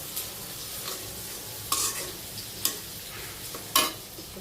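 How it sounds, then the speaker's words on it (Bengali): Ginger garlic paste frying in a pan while being stirred, giving a soft continuous sizzle broken by several sharp scraping strokes of the spoon against the pan. "একটু ভাজা হোক, তারপর পানিটা দিয়ে দিব।"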